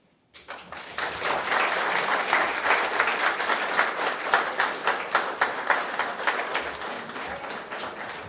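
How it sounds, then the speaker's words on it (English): Applause from an audience at a criminal justice award ceremony starts abruptly and holds steady as a full, bright wash of clapping, with individual claps growing more distinct as it slowly thins toward the end. "Tiana Sanford needs another round of applause, guys"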